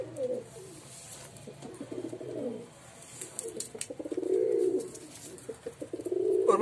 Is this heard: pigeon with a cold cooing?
yes